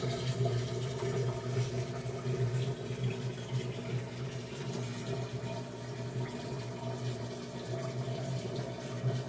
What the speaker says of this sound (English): So it sounds like it's draining the water.